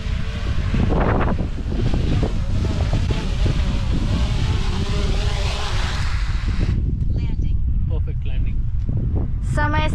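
Strong wind buffets the microphone in an open, windy spot where a drone is being flown, a loud continuous roar that drops away near the end as brief voices break through.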